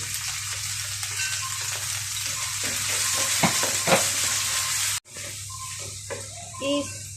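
Onion sautéing with garlic in oil in a pan, a close, continuous sizzle with stirring scrapes and a few sharper crackles, dropping briefly near the end before resuming.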